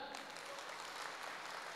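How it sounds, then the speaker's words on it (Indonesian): Applause from the crowd at a regional development planning meeting, a continuous, even roar of many hands clapping, fairly distant and steady throughout the short stretch. "Ada, tepuk tangan."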